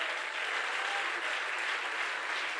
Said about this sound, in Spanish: Demos palmas al Señor Jesucristo